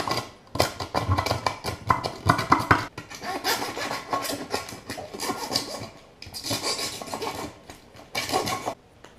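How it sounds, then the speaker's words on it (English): A metal file rasps burrs off freshly drilled holes in a fruit can for a gasifier stove, giving bursts of scraping strokes that run in irregular runs, close and fairly loud, with short pauses between passes. "you can take a file and knock down the burrs"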